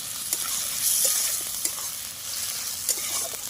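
Spice masala for matar mushroom is stir-fried in a pan, giving a steady, close sizzle with occasional scraping stirs and small spatters throughout, without any talking.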